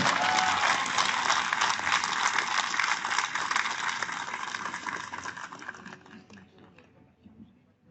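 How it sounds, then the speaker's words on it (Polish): A live audience at a talk on childhood vaccination gives a sustained round of dense clapping that gradually thins and fades out toward the end. "Wielkie brawa!"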